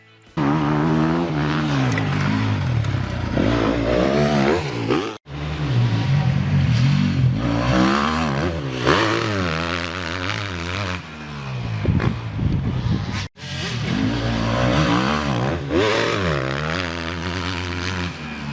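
A motorcycle engine revs up loudly once the clutch is pulled in during a berm turn, a continuous rising and falling drone that stays close with two brief cuts.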